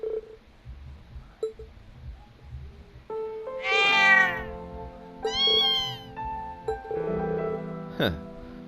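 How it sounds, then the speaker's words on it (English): A mother cat and kitten from the Trails of Cold Steel video game meow back and forth over a soft game backdrop, several clear rising cries, some drawn out, close and moderately loud. "searched for the missing mother cat with every fiber of their being"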